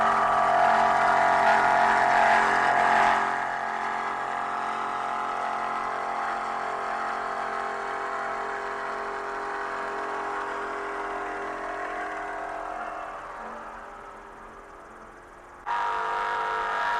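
A 29-foot Fountain powerboat with a single 700-horsepower Carolina engine races in an offshore grand prix, its engine a loud sustained roar that fades away, then a sharp return of noise near the end.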